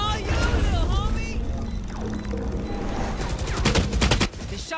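Gunfire rings out in a Valorant match, with rapid shots clustering into a quick burst near the end over constant game noise and players talking throughout.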